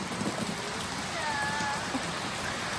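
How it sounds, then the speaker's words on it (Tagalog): Steady rain falls outdoors in a cold, wet spot, a continuous even hiss of drops spattering across surfaces with a faint tonal whine in the background and no voices. "Habang si Ma'am Princess ay naliligo ng ulan"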